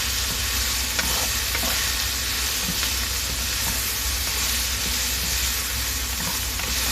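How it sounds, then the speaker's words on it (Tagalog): Beef with bitter gourd and bamboo shoots stirred in a pan over a loud, dense sizzling hiss that runs without pause, with faint spoon scrapes buried in it. "Mix it all together."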